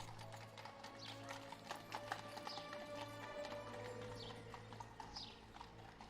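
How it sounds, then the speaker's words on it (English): Steady clip-clop of a horse-drawn cab's hooves in the video game Lamplight City, a rhythmic clatter running continuously under a low ambient hum, with an occasional faint whinny. "I'm glad that Coulson still uses horses."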